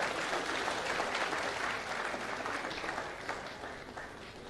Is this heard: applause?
yes